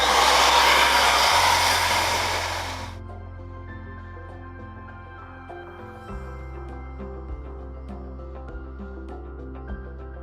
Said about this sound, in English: you just want to turn the hairdryer on, and you do need to hold it for a couple of seconds just so it starts to heat up